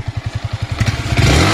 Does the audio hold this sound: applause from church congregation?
no